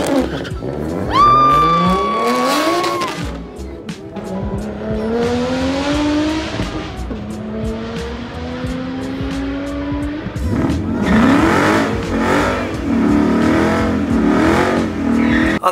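A 750-horsepower single-turbo BMW 135i launches down a drag strip, engine revving hard through rising gear pulls with tire squeal, loud and close, then roaring on as the car accelerates away.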